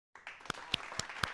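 A few people clap to welcome a podcast guest: four or five distinct, crisp claps spaced roughly a quarter second apart, close and fairly faint, starting after a brief silence.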